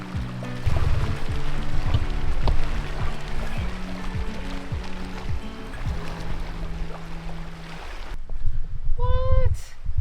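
Hundreds of wild birds flying in and splashing down onto water in the Atherton Tablelands, a continuous dense patter of splashes with people talking over it before a sharp cut to a louder burst of splashing.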